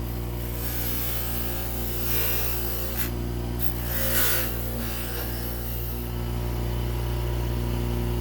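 A Suzuki PE250 motorcycle clutch lever is polished with a coarse abrasive, giving a soft rubbing rasp over a constant low hum, with a few brighter scraping bursts in the middle.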